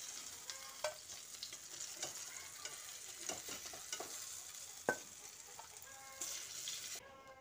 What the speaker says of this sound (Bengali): বাকি ধোকাগুলোও আমি তেলে দিয়ে ভেজে নিচ্ছি